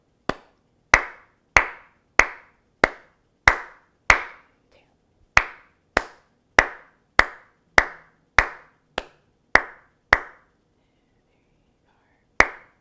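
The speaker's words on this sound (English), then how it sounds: "Let's clap to the rhythm." During a flute lesson, a single person claps a steady beat, about sixteen crisp, close claps in even rhythm, pausing briefly before one final clap.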